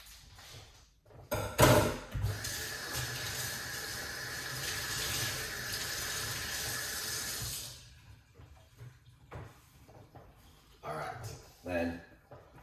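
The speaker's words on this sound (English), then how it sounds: "we're going to get our hot water and we're going to pour it inside of it" Hot water poured steadily into a very large cup of garlic, a sustained splashing pour that lasts several seconds, with handling sounds before and after and a voice talking around it.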